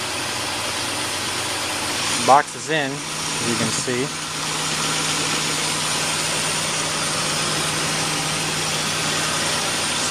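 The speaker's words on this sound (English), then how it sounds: "Okay, engine's running" Car engine idling with a Volant cold air intake installed, a steady low hum running throughout the clip, with someone speaking briefly over it near the start.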